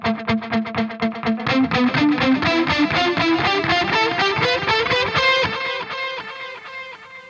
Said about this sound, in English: You can crank the feedback as well